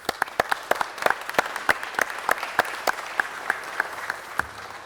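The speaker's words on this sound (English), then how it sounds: "So let's give them a big round of applause, folks." Scattered applause at a city council meeting: a few individual claps ring out sharply and unevenly over a soft background, like a small audience clapping in a hall.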